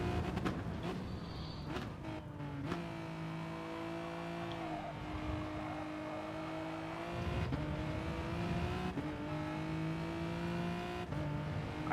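A race car driven hard in a practice session, engine holding a loud sustained roar with shifts in pitch as it accelerates and brakes through corners, near and continuous for about twelve seconds.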